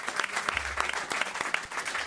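Brief burst of audience applause from a television studio crowd, dense steady clapping at moderate volume with no voices.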